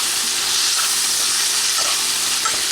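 Pork sizzles steadily in a pan with sazon seasoning, a continuous close hiss of frying with soft crackles and the occasional light scrape of stirring, no voices over it.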